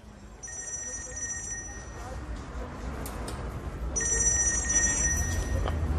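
Telephone bell ringing in a house in bursts, first ring around the half-second mark then again near four seconds, clear and moderately loud over a low background rumble; a faint tick-like sound recurs between rings.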